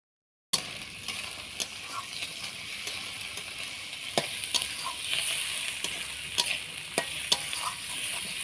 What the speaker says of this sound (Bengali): কিছু চিংড়ি মাছ, পেঁয়াজ, রসুন এগুলো আমি তেলে দিয়ে একটু ভেজে নেব।